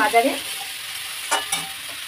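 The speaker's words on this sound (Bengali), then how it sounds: "কলমি শাক ভাজা করছি" Water spinach frying and being stirred in a pan, a soft continuous sizzle with a couple of sharp utensil scrapes, no talk.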